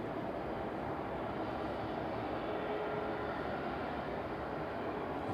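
Ilyushin Il-76 jet taxiing at night at East Midlands Airport, a steady, distant broadband engine rumble and whine that holds constant throughout.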